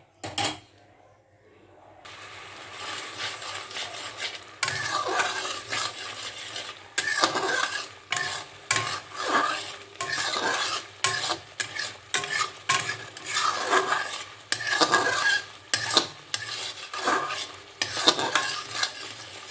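Mango chutney in a pan stirs and sizzles, with a utensil scraping and clinking against the metal in repeated strokes that cover a soft bubbling, close and moderately loud after a brief quiet start.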